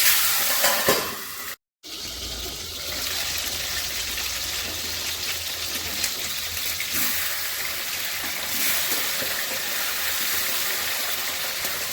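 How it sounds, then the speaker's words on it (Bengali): Pieces of aar fish fry in hot oil in a pan with a loud, steady sizzle and crackle that runs on without a break and has no talk over it. "প্রথমেই আমি মাছগুলো ভেজে নেব"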